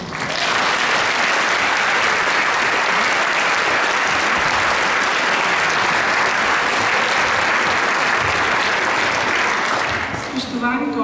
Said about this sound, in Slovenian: en velik aplavz najprej za vse učiteljice, ki so materinski dan preživele danes v službi